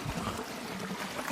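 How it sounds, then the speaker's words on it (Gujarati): Water runs through an open irrigation channel in a farm field, a faint, steady trickle and gurgle with a soft low rumble and no voices. "પાણી હાલે"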